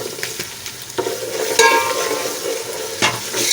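Ground turmeric, red chilli powder and salt fry briefly in a pot for potato rice, giving a steady close sizzle with scraping stirs and a few spoon knocks on the pot.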